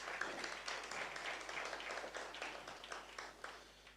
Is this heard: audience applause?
yes